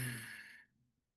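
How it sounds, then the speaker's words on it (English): Slow, steady exhale through the nose during a nasal breathing exercise, a soft airy whoosh fading out within about a second, close and alone. "So if I take in a 3-second inhale and then I'm breathing out"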